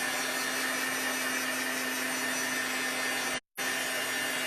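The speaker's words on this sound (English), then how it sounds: "I'm just using a little dryer that I've had for a while." Small handheld dryer blowing on a freshly applied chalk paste layer, a steady loud whirring hiss with a constant hum and a brief cutout near the end.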